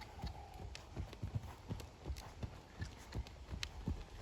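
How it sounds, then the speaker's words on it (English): Horse trotting on a loose rein, hooves clip-clopping in a quick, steady two-beat rhythm at moderate distance, with faint outdoor background and no talk. "I'm just going to make it real smooth and just let her trot out."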